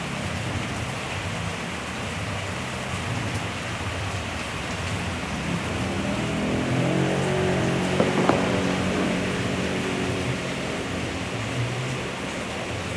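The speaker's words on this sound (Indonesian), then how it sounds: "sore ini sudah mulai hujan rupanya wilayah saya Banyumas" Steady rain falling on an afternoon in Banyumas, a continuous broad hiss of drops on surfaces that swells slightly midway, with no talking.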